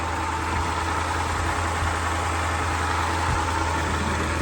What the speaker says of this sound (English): That 440 engine purrs.